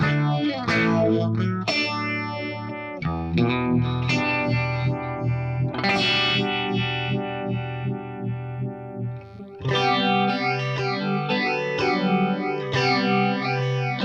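An electric guitar runs through an Axe Fx III phaser effect, with distorted sustained chords and arpeggiated notes swept by a slow, rhythmic whooshing phase modulation. No voices.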